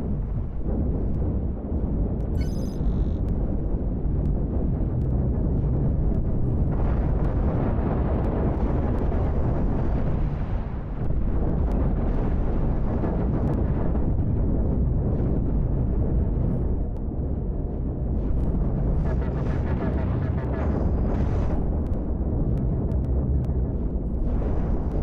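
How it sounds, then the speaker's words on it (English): Broadside destroyer cannons on a capital ship in Cosmoteer fire in a dense, continuous barrage with explosions, a loud rolling rumble that barely lets up for the whole stretch, with occasional sharper bursts. "I'm trying to get all my guns to fire right now"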